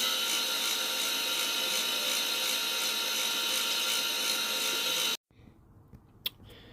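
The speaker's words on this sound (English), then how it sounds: "Now I've changed the drill bit for a 4mm reamer. I'm going to run that through the hole in the axle bushing." A 4mm reamer driven by a drill through the hole in an axle bushing for a model steam locomotive whirs loudly and steadily for about five seconds, then stops, followed by faint handling noises and a sharp click.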